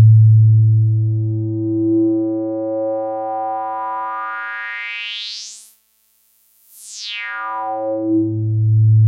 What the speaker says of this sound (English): it's a state variable filter and I'm using its bandpass output.